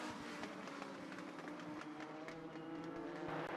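Race cars on an oval at Charlotte Motor Speedway in a summer shootout race, a dense, steady roar of several engines charging into the first turns, loud and continuous with no talk over it.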